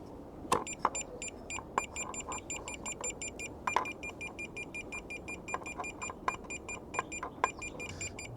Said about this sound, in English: the annoying beeping sound